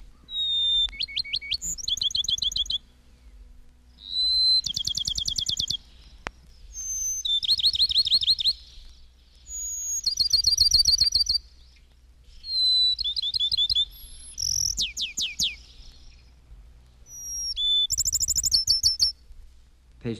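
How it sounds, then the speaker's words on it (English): Pine Woods Sparrow song, a series of clear whistled phrases and trills repeated about six times with short pauses between, fairly close and distinct over a quiet background. "Page 233, Pine Woods Sparrow"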